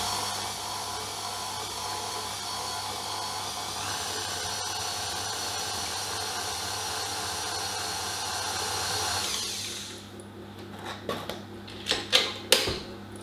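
An electric mixer whirs steadily while stirring flour into cookie dough, a continuous motor hum that stops about ten seconds in, followed by a few quiet scraping knocks.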